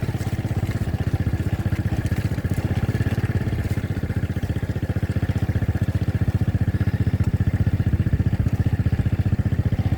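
A saleng motorcycle with a sidecar runs with a steady, rapid, rattling engine putter, close and constant with a clattering edge.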